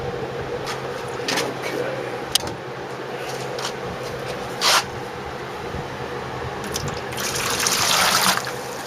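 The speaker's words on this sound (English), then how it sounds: "I'm going to go ahead and get these solutions poured in here" Chemical solutions poured into a container during gold refining from computer scrap, trickling and splashing liquid with a fuller gush near the end and a few clinks, with faint background sounds.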